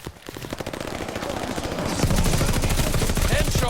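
Rapid automatic gunfire in Call of Duty: Vanguard rattles loud and continuous, growing denser and heavier partway through, with a voice briefly heard under the shooting.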